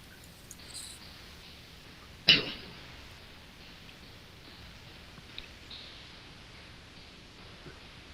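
One short, sharp cough from a person on a livestream, a single abrupt burst standing out from otherwise quiet room tone with a few faint clicks and rustles around it.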